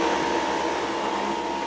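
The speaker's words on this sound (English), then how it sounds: "You can hear the back motor increasing its suction" A Dyson V11 cordless stick vacuum runs in automatic mode on a hard floor, its motor giving a steady, loud whirring hum with a constant airy rush and a faint high tone, unbroken and without talk.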